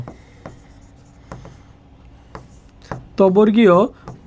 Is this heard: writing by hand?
yes